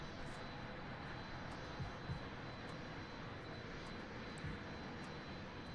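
Jet fighter in a flight simulator game climbing vertically at full throttle, a steady dense roar of engine and rushing air that holds evenly throughout, with no talking.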